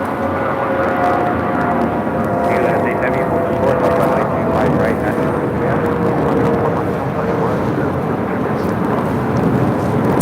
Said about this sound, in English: had the second Air Tahiti Nui Dreamliner coming from Papeete, landing on 25 left.